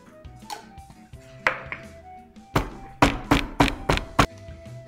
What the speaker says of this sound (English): I'm going to freshly crack some pepper.